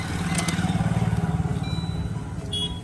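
Suzuki Swift Dzire fitted with an 8-injector LPG kit being started with the key, a rapid rhythmic cranking chug that catches into a close, steady idle, with a few faint clicks.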